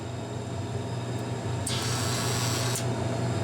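A motor inside a Dixie Narco 240/138-6 vending machine hums steadily and briefly whines higher as the bottle and can rotor advances one position, close and steady, with no voices.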